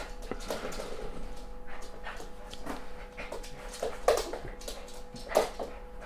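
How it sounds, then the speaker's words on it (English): A happy, friendly dog pants and whimpers close by, giving a few short excited yips over steady background hum, with no talking. "He's the most happiest, friendly dog in the world."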